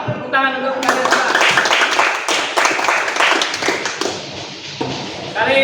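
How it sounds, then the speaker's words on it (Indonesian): Students in an automotive engineering vocational school class clap their hands together, a burst of dense rhythmic tapping claps lasting several seconds, close and loud, with a voice speaking briefly at the start and end. "Tepuk tangan untuk kalian semua."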